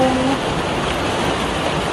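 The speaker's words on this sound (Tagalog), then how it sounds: "May bagyo pa rin! Hindi pa rin ako makalabas! Ang lakas ng ulan, hindi siya tumitila." Heavy typhoon rain pours in a dense, steady hiss, loud and continuous, with a brief tonal voice fragment at the very start.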